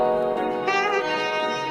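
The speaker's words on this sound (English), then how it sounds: "For this saxophone, I would also like to use some saturation, and this is the built-in, very basic SP1200." Sampled saxophone phrase run through the basic built-in SP1200 saturation, a sustained reedy note with a gritty, brighter mid-range edge and a pitch shift partway, steady and alone without talk.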